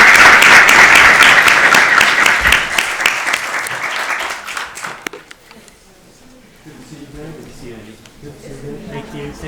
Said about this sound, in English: give them one last round of applause